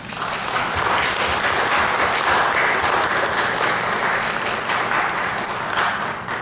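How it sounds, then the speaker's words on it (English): A large audience claps continuously, a full and steady round of applause that holds strong throughout before easing slightly at the end. "I believe they deserve a round of applause."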